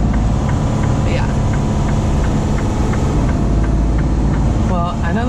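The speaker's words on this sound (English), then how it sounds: "The lovely sound of Jake Brakes, everybody. That loud you're hearing is my air compressor brakes." Truck Jake brake and air compressor brakes, a loud continuous low engine rumble with a regular ticking pulse and a brief hiss near the end, heard from inside the cab.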